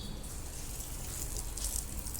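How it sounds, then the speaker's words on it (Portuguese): Water runs steadily over a soapy surface as it is rinsed, a continuous close hiss and splash with no talking. "Eu vou tirar sabão com água."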